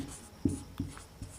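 A hand writes Sanskrit letter text, giving three short, soft, close scratching strokes spaced evenly apart, with no talking.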